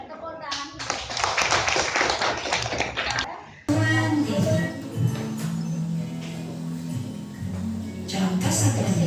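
Classroom applause, with students clapping in a bright burst that stops abruptly, followed by a noisier room with voices, shuffling and scattered taps.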